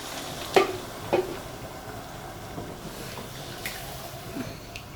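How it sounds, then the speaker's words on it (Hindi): Soft scraping and gentle stirring of fish curry in a pot over a faint simmering hiss, a couple of louder clinks near the start, then quiet sizzling. "और इस तरह से हिलाना है इसको बस।"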